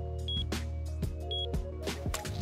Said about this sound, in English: anything with a code lock will make a beep